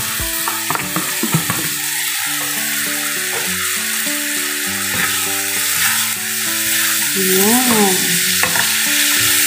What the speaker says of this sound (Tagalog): Gigisa-gisa muna natin siya guys hanggang sa medyo maluto yung ating chickpeas.